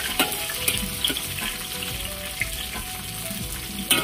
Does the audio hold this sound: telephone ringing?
no